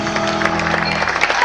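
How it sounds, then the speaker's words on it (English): Applause from a school concert audience greeting a stand-in jazz band trombonist, a brief burst of steady, dense clapping throughout. "So can we give Joe a round of applause, please?"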